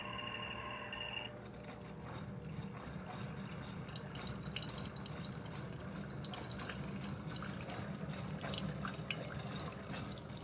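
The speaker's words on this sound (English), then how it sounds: "This one is already brewing. It's taking water from the reservoir." A Hamilton Beach FlexBrew coffee maker brews from its reservoir, giving a steady close trickle and dripping of water with gurgling and light hiss, continuous and even after a brief higher tone at the start.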